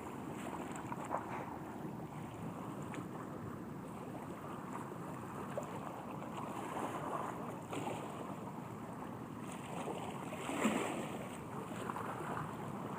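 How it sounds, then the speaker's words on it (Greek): Sea waves wash steadily onto a beach in San Francisco, a soft continuous surf with wind rumble across the microphone, fairly faint and without speech. "μες στην παραλία με τα ωραία κύματα"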